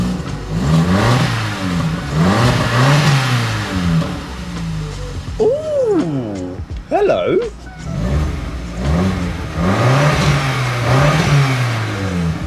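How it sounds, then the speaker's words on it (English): A cheap hot hatch track car's engine is revved repeatedly, rising and falling in rhythmic surges with crackling backfire pops, while a person reacts briefly in the middle. "let's give the car a few revs."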